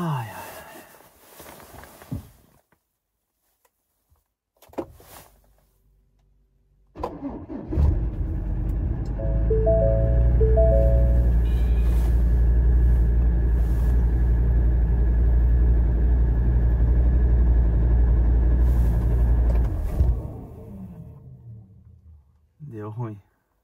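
A 4x4 car's engine starts in freezing snowy weather and settles into a steady, loud idle lasting over ten seconds, preceded by footsteps and brief talk, then cutting off near the end.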